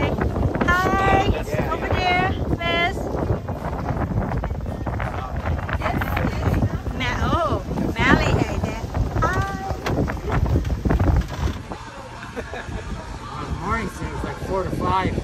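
Strong wind buffets the microphone continuously on a sailing boat off Bradenton, Florida, with people talking over the roar and water rushing beneath.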